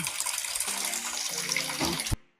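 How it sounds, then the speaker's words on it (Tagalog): Tap water runs and splashes steadily over dishes being washed in an outdoor sink, a continuous gushing hiss with faint clinks, ending abruptly when the flow stops. "Ngayon, maghugas ako ng pinggan dito sa labas"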